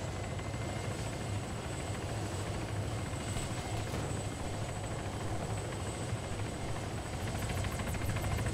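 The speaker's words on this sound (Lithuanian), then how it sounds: "Bėk į lauką, bėk prie malūnsparnio, greitai, bėk." Helicopter in the video game Arma 3, its rotor and engine drone steady and loud across the whole stretch with no one talking over it.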